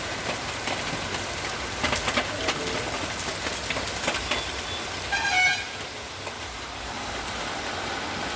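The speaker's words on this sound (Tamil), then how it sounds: "மழை வந்து விட்டது" Rain falls steadily on a hill-station road in Kodaikanal, a broad even hiss with a vehicle horn tooting briefly in the background and no talk.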